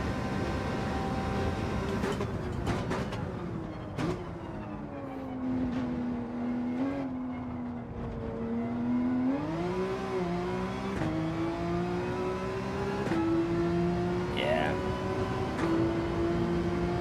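Race car engine in Gran Turismo 7 revving and accelerating out of a corner, a steady rising whine that shifts pitch several times, moderately loud with a few brief clicks.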